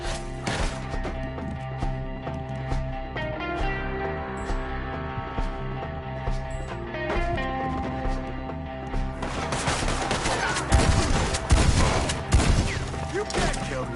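Gunfire in the Red Dead Redemption 2 video game. Steady music with held tones plays throughout, and clusters of sharp shots and impacts break in more densely toward the end.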